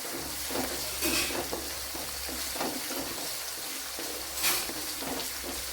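Asafoetida and spices fry in hot oil, a low steady sizzle with intermittent stirring scrapes and brief louder bursts, close by with no voices.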